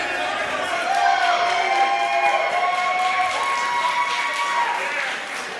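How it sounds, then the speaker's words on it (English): A raucous wrestling crowd inside Hastings Casino roars and cheers with scattered whoops and claps, a loud sustained din with rising chant-like voices swelling and fading toward the end. "There's a raucous crowd inside Hastings Casino here tonight."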